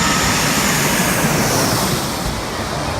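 Jet airliner taking off or landing right beside Airport Beach in St. Martin, a loud close engine roar that slowly eases off.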